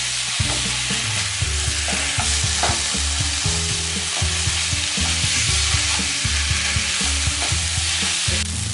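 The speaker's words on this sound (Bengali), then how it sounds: "একটু ভাজা ভাজা করে নেব" Ginger and green chilli paste fry in a pan with a constant loud sizzle, while a spatula scrapes and stirs in quick repeated strokes close up throughout.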